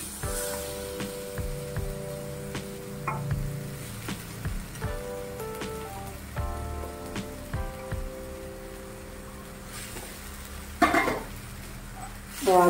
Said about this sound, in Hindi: आलू को अच्छे से सभी मसाला मिक्स करते हुए थोड़ी देर भून लेंगे।